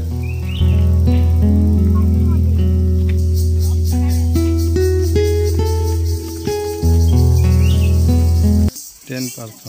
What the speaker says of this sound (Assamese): চৰাইৰ শব্দবোৰ কিন্তু একদম নেচাৰেল।